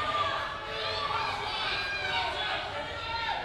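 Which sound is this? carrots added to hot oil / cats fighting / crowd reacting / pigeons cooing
crowd reacting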